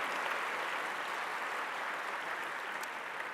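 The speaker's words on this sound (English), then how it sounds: "So let's give them one more round of applause." Audience applause at a NAFSA 2023 plenary address: a soft, steady, distant wash of many hands that holds at an even level throughout.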